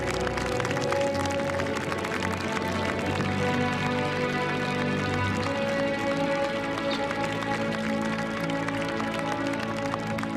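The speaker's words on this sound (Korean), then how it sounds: "큰 박수 부탁드립니다." Steady applause from a large outdoor crowd at a military airshow during an Armed Forces Day aerobatic display, a dense, even patter of clapping with a sustained tonal hum of aircraft or public-address sound beneath it.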